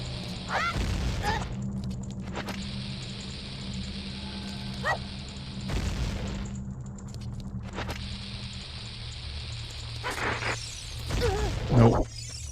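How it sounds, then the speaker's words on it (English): Booming blasts in the Ocarina of Time video game as a thrown bomb explodes against a rock, several sharp bursts spread apart among game effects and background music. "I might just be able to throw a bomb at it"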